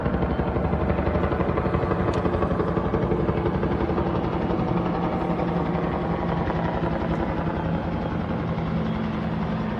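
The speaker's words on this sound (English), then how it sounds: "the helicopters water bombing" Firefighting helicopters drone steadily while water bombing a wildfire in Cape Town, with a heavy, continuous rotor and engine roar that stays loud and constant throughout.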